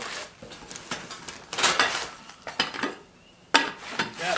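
Pans and cookware clatter and scrape as they are picked out and handled in a camper kitchen, a run of close, sharp metallic knocks and clanks in irregular bursts with brief pauses, no talking.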